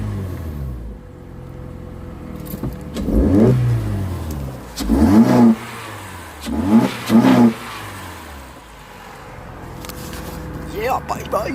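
A cold car engine is revved repeatedly, each blip rising sharply in pitch and then dropping back to idle, with several bursts close by and a person speaking between and over them.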